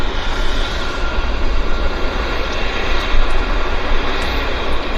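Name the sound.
airplane landing at Vancouver airport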